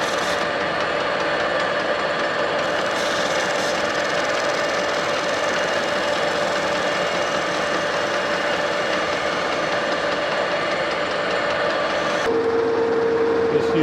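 Metal lathe facing the end of a steel blank for a K&T 2D 30-taper tool holder, a steady loud machining drone with a high cutting whine throughout, changing tone near the end as the cut stops.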